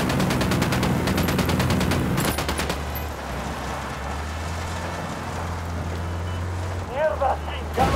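Rapid automatic gunfire in Ghost Recon Wildlands, bursts of sharp repeated shots crackling loud and close for a few seconds before a vehicle engine rumble takes over, with a voice speaking near the end.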